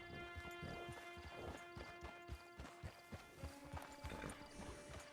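Horse hooves clip-clop at a steady walking rhythm in the video game Red Dead Online, quiet and close, layered over a soft musical hum.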